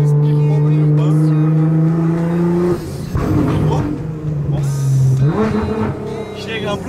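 A Nissan GT-R engine revs loudly in a city, a strong steady drone that rises in pitch, drops away briefly, then climbs again, with people talking over it.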